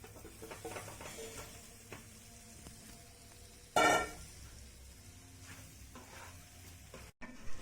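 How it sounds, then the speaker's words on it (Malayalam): Chicken being added to sautéed masala in a pan for a Kashmiri chicken fry, a soft steady sizzle with light stirring and scraping, broken by one brief louder clatter. "ഇനി ഇതിലേക്ക് ചിക്കൻ ചേർത്ത് കൊടുക്കാം."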